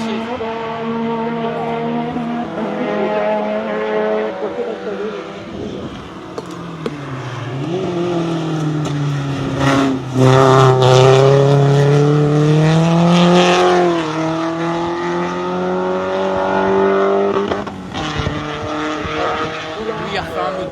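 A race car at a hill climb in Pourville-sur-Mer, its engine note rising and falling through gear changes and downshifts, loud and sustained throughout with voices talking over it.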